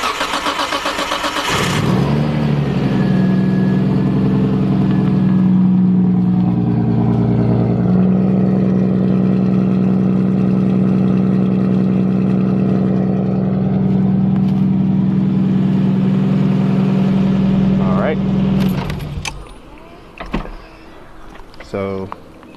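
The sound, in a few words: Isuzu D-MAX truck engine running and revving after exhaust refit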